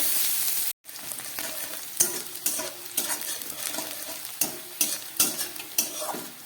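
Chopped onions frying in a pan while being stirred, a steady sizzle broken by a run of scraping and clinking strokes of the spoon against the pan, close and fairly loud, with no voices.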